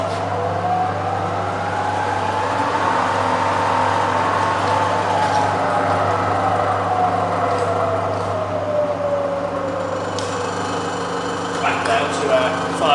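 Bridgeport Vari-speed milling machine with a 42-inch table, spindle running in reverse, giving a steady motor whine and hum with a faint slow pitch shift and some light clatter near the end.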